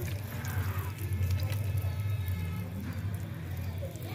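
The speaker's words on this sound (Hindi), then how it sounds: "तो पानी देते हैं इस पे" Water poured onto garden plants in Saharsa, a steady splashing and trickling wash that runs continuously at moderate loudness with no talk.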